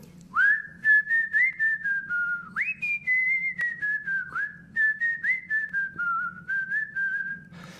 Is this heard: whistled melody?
yes